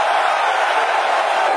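A large concert crowd roars and cheers continuously, a dense wash of distant voices at steady loudness with no distinct individual shouts.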